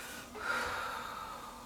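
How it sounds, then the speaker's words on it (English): A single soft, faint exhale drawn out over about a second, breathy and close, with no other sound around it. "Take time to breathe out."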